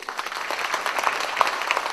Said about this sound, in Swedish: Hälsa alla våra gäster välkomna med en stor, varm applåd